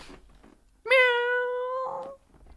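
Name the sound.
person imitating a cat's meow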